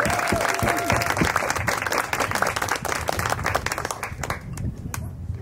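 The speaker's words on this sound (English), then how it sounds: "So let's give him a round of applause." Applause from a seated lunch crowd at a Taiwanese military village food-and-culture gathering, honoring the cook behind the beef noodle soup. Dense, steady clapping carries throughout and thins toward the end.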